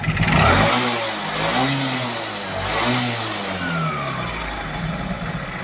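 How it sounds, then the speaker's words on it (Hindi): A Honda Shine motorcycle engine, freshly refitted, runs steadily and is revved with the accelerator in a few rising-and-falling surges, loud and close, with no talk over it. "देखिए, अब एक्सीलेटर बढ़ाते हैं हम।"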